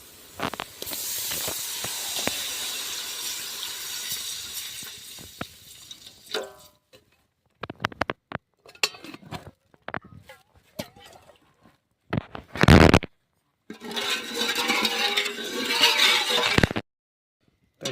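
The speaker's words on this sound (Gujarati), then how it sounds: "તો હવે એમાં નાખી દઈશું છાશ" Buttermilk poured into hot onion and green chili masala for a Kathiyawadi-style dish hisses and sputters in loud bursts, separated by quiet gaps, before a final sustained sizzle.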